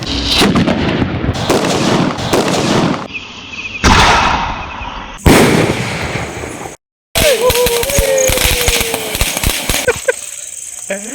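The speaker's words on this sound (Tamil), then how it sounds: "சிவகாசி பிஜிலி வெடி ஓல்ட் இஸ் கோல்டு வெடி அடிக்கிறேன்" Loud Sivakasi bijili firecrackers go off in quick crackling strings, with sharp bangs and brief pauses between bursts, some echoing outdoors.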